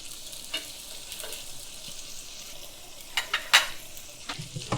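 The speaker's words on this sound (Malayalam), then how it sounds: "മീനൊക്കെ വറുക്കുമ്പോൾ ഉള്ളി ഇട്ട് കൊടുത്തു കഴിഞ്ഞാൽ." Fish fries with sliced onions in a pan, a quiet, steady sizzle broken by occasional sharp clicks and scrapes as the pieces are stirred and turned.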